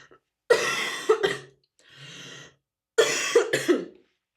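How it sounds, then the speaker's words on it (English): Repeated harsh coughing in three bursts, close and fairly loud, with a softer wheezy breath between fits; no talking. "I have tears in my eyes trying to hold back my coughs."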